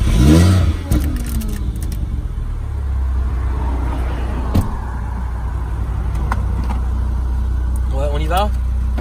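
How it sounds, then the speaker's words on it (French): A hybrid car starts up and pulls away, its engine rumbling low and steady beneath the cabin with a brief surge at the outset; people talk over it inside the car. "Démarre ton hybride."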